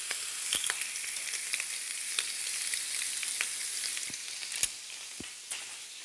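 Bacon frying in a pan toward golden, a steady close sizzle with occasional sharp pops and crackles over about six seconds, no voices.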